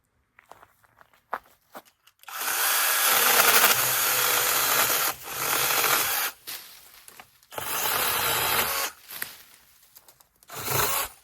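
A battery-powered 6-inch mini chainsaw cuts through tree limbs outdoors, running in two loud sustained bursts of several seconds each with quieter pauses between, plus a short final burst.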